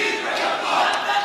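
A dense crowd at a Bhutto election rally roars and chants together, a loud continuous wash of many voices filling the short burst.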